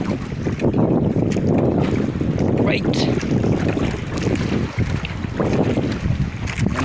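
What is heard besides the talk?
strong northeast monsoon wind on a fishing boat at sea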